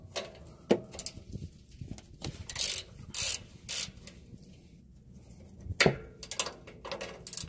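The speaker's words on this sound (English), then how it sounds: "remove the upper fasteners that hold down the strut assembly to the top part of the suspension. These are going to be 14mm nuts" A ratchet wrench loosens the 14mm upper nuts holding a Toyota Tundra strut assembly to the top of the suspension. Several short, close bursts of ratcheting clicks are separated by quiet pauses, with no talking.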